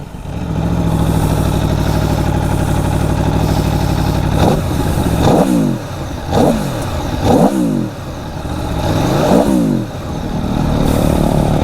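A 2021 Aprilia Tuono 1100 Factory motorcycle idles loudly up close, then gets revved in a series of sharp blips, each rising and falling, with a deep stock exhaust tone.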